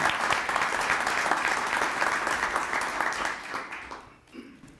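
An audience applauds at a swearing-in ceremony, a full round of clapping that holds steady and then thins out and fades toward the end.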